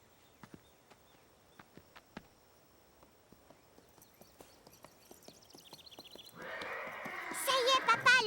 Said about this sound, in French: Le hennissement du cheval avait surpris Caillou.